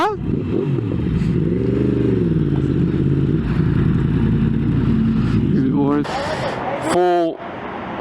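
A Yamaha R1M sportbike with stacks, a filter, a full exhaust and a stage 2 tune revs close by, its engine note sweeping up and down in loud, rising and falling pulls, with a sharper high rev near the end.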